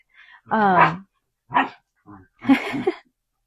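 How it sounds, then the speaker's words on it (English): Puppies yip, whimper and give small barks in several separate bursts, close by, with brief silences between them. "puppies are playing"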